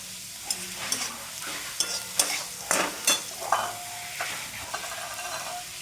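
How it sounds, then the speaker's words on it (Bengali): Onion fries in hot oil for homemade chowmein, a steady sizzle under repeated scraping stirs and clinks of a spatula against the pan. "আবার তেল দিলাম। এবার পেঁয়াজটা দেবো।"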